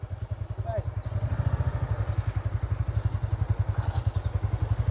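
Motorcycle steadily chugging over a rough rural dirt path in a remote sitio, its engine thumping in a fast regular rhythm with clattering and bumping from the uneven ground, close and continuous throughout.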